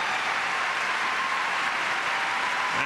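A tennis crowd at the 2007 Memphis final gives a standing ovation after match point, with loud, steady, dense applause and clapping throughout.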